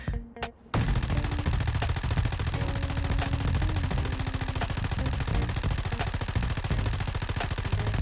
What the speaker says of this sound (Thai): อันนี้พร้อมกับการยิงนะ